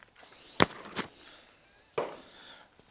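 Gunshots fired in the online game Fallout 76 Wastelanders, three sharp cracks alone: two close together, then a third after a short pause, each with a brief noisy tail.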